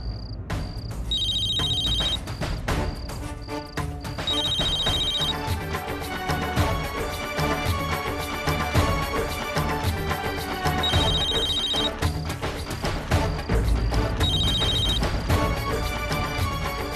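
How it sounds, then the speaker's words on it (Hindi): A phone ringtone plays on a Hindi TV drama set, a repeating electronic melody ringing steadily and loudly for the whole stretch, with no talk over it. "मेरा फ़ोन उठाओ"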